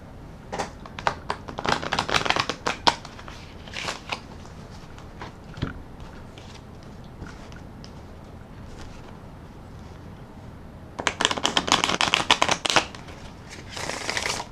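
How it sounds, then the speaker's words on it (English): Tarot cards are shuffled in quick riffling bursts, crisp and close, with quieter handling in between and a final loud flurry of shuffling near the end. "We will do another shuffle, cut the cards, and then we'll begin."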